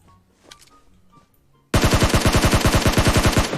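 Near-silent quiet with faint clicks suddenly gives way to a loud, rapid burst of automatic gunfire in the battle royale game PUBG Mobile, evenly paced shots hammering on for about two seconds.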